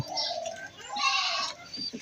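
White pigeons cooing softly in short, low, murmuring calls with quiet rustling between them, close by.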